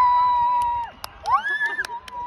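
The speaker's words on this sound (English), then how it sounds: "Everybody's going to start cheering." A crowd at a total solar eclipse in 2024 whoops and cheers as totality arrives, with scattered shrill shouts and whistle-like cries rising over a steady background murmur.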